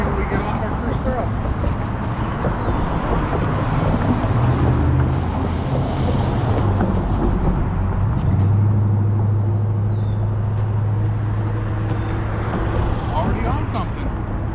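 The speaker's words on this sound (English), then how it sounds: "Kind of a busy area, so I apologize for all the car noise" Steady low rumble of nearby road traffic in a busy area runs throughout, with passing cars swelling and fading in a continuous wash of noise.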